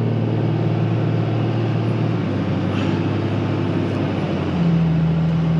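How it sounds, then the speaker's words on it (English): Used Cummins diesel truck engine shifting through the gears, a steady loud low rumble with engine drone dropping in pitch at a shift and rising again near the end, close and continuous. "Shifting through the gears."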